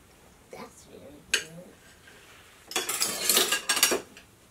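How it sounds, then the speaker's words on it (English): Metal tongs and cutlery clink and scrape against dishes in quick bursts while food is picked up from a plate, close and fairly loud, with brief gaps between the clatters. "I'm ready to use the tongs to pick my food up"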